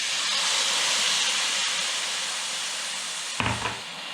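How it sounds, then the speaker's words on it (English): Beef stock poured into a hot pan while cooking pique a lo macho hisses and sizzles steadily throughout, fading slightly, with a brief splashing burst near the end. "Now we're going to add the beef stock."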